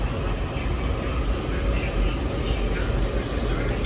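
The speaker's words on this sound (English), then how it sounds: "This train has just got to stop in time." A DC Metro Blue Line train arrives and slows to a stop, a dense, loud rumble and roar of wheels and motors filling the platform throughout.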